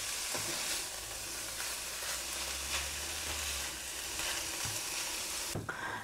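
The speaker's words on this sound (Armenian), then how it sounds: "Ու այնքան ենք տապակում, մինչեւ գազարը մի փոքր փափկի։" Carrot and chicken breast frying and being stirred in a pan, a steady close sizzle with soft scraping stirs throughout and a brief clatter near the end, no talk.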